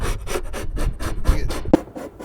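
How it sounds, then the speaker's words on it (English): A razor blade scrapes leftover sticker adhesive off a golf cart body in quick, loud, rhythmic strokes, close up, about nine rasping passes in a steady back-and-forth pattern. "Get some of this adhesive off with the razor blade."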